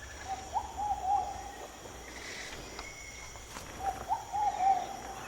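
An Amazonian umbrellabird's deep, hooting courtship call sounds twice, a few seconds apart, each a low drawn-out note from a male high in the treetops over a hissing forest background.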